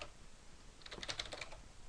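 A short burst of quiet keystrokes on a computer keyboard, a handful of soft clicks typing a folder name, faint and close with no talk.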